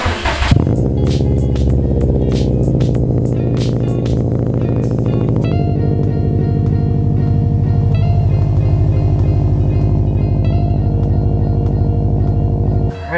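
A 2017 Subaru WRX STI boxer engine cold-starts with a brief cranking whir, catches, and settles into a loud, steady, throbbing high idle right up close, continuing alone with no voices.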